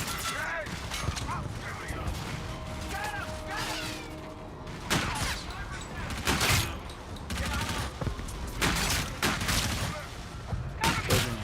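Rapid gunfire bursts from Call of Duty: Infinite Warfare gameplay, crackling in dense volleys under game sounds and voices, growing louder in the second half.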